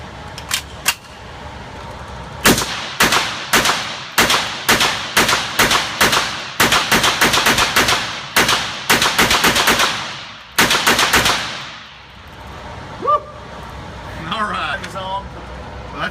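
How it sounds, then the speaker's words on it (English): Rapid gunfire at 25 yards emptying a full magazine, loud close bursts of shots with short gaps between strings, ending in quiet after the last rounds. "let's see how well you can keep it on target, rapid fire at 25 yards"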